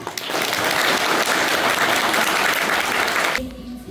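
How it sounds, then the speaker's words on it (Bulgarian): Audience applause for first-grade pupils at a school knowledge-day celebration, a dense, sustained burst of clapping that holds steady for several seconds and then cuts off abruptly. "Аплодисменти за тях!"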